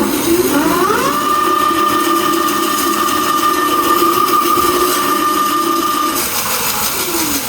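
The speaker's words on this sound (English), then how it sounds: "then we can tilt the bike over and then hit the throttle and then see how fast it goes" A Ridstar Q20 electric bike motor spins up with the bike tilted over, a whine rising quickly then holding steady at a high pitch before dropping away near the end, loud and close with no talk.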